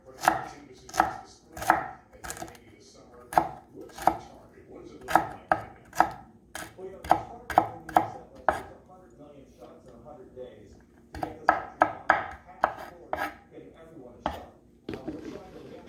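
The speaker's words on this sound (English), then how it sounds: "Carrot, and so because that's a baby carrot, so I also cut small like this, chop small" A knife chops a baby carrot into small pieces on a board for clam chowder, giving crisp, rhythmic chops in quick bursts. A short pause comes midway before the chopping resumes.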